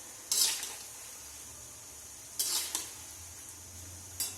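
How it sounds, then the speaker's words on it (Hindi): Cashews fry in hot oil with a continuous low sizzle, broken by a few sharp bursts of stirring and a metal utensil scraping the pan. "तो चलिए हम इसको अच्छे से फ्राई होने देते हैं"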